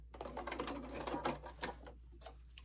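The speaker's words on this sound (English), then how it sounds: "We're going to stitch 1/4 of an inch away from the edge" A sewing machine stitches fabric a quarter inch from the edge in a close, busy mechanical chatter that slows and breaks into a few short bursts near the end. Nobody speaks.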